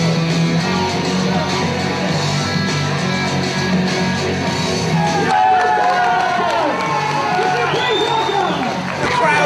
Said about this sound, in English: Get on their feet, the crowd rejoice for Guy Thunder.